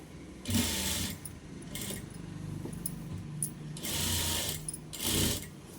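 A sewing machine stitches the side seam of a three-year-old girl's dress, several runs of close whirring separated by brief pauses while the fabric is handled.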